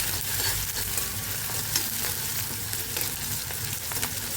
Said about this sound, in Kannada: ಈರುಳ್ಳಿ ಕೆಂಪಗಾಗ್ತಾಯಿದೆ